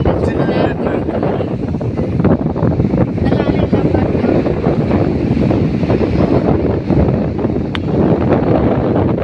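Steady, loud wind buffets the microphone at a beach near Inayam beside the Kappal Matha church, with surf and crowd murmur blended into a continuous roar for the whole span.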